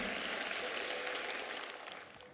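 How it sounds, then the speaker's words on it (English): A school assembly audience claps in a steady, close wash of applause that fades gradually over about two seconds. "Give his heart a huge round of applause."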